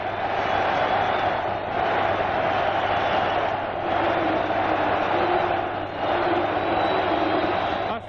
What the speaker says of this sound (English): listen to this crowd of Celtic fans celebrate